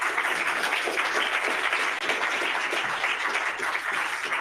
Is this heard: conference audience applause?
yes